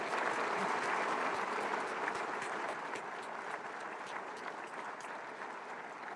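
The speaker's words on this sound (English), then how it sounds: "I think that deserves a huge round of applause" An audience at a university convocation gives a sustained round of applause, steady and even throughout, gently tapering toward the end.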